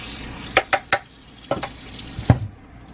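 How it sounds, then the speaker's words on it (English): A cup rinsed in an RV sink, a few sharp clinks and knocks spaced unevenly over a faint watery wash, close by with no talk. "Rinse the cup off right here."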